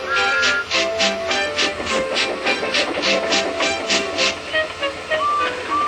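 Toy train engines shunting freight cars, a rapid run of rhythmic metallic clicks and clacks over a hissing hum, close and fairly loud, slowing and thinning toward the end.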